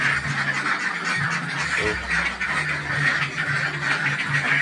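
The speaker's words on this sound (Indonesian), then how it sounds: "Ini bebek saya yang kemarin saya beli ya" A large flock of about 400 ducks quacks continuously in a busy, overlapping chatter, with a louder nearby call briefly standing out.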